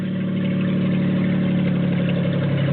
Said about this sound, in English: Noisy because I removed the catalytic converters